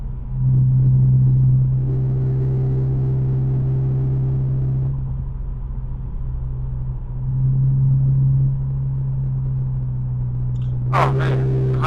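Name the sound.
car engine rumble heard from inside the car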